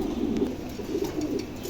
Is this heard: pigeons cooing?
yes